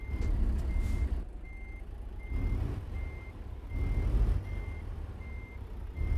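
A semi truck with a long trailer reverses in American Truck Simulator, its backup alarm beeping at a steady, regular pace over a continuous low engine rumble.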